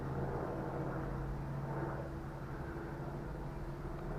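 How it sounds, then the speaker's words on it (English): Helicopters flying over a village during a cycling outing, a steady low mechanical drone with a faint hum held at even loudness throughout, no voices. "We've got helicopters now flying over."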